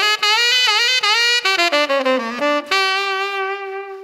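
Tenor saxophone playing a short blues phrase on a major pentatonic line, a run of quick articulated notes dipping lower and then settling on a long sustained tone, close and loud with no talking.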